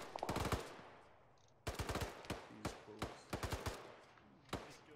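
Close automatic gunfire in Arma 3, a long rattling burst followed after a short pause by several shorter volleys and separate single shots, loud and alone without talk.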